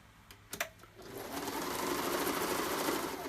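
Sewing machine stitching a quarter-inch seam on a wallet, starting with a few clunks and backstitch taps, then running steadily with a continuous close whir and rapid needle rattle.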